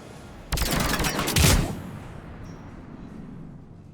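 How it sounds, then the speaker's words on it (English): Rapid burst of gunfire from Mass Effect 3 defense guns shooting down Cerberus ships, a loud dense volley lasting about a second and a half, then fading into a low rumbling background. "the guns are already picking Cerberus ships out of the sky"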